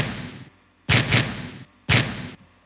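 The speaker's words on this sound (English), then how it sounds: "So it's basically a stump, which I low cut it 108 hertz." A punchy stump kick drum sample, low cut at 108 hertz, strikes three times in a loose pattern, each a loud, short, dry thud alone with no other sound.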